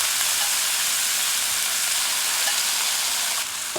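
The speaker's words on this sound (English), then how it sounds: "now I'm going to cook off my shrimp on both sides for about 2 minutes" Shrimp sizzle in hot olive oil in a skillet, a loud, close, steady crackling hiss that holds without a break, with a few faint pops.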